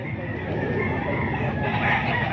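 A rooster crows loudly and close by at a busy outdoor chicken market, its call rising over a dense bed of clucking birds and crowd noise.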